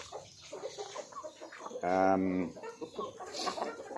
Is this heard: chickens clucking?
yes